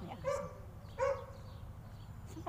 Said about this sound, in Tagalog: Oh, may aso.